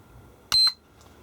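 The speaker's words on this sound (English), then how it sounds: "there will be a beep indicator from the charger telling you it's charged" An IMAX B6AC lithium battery charger gives a single short, sharp electronic beep to signal a single-cell lithium-ion battery is fully charged, loud and close in an otherwise quiet room, followed by a faint echo.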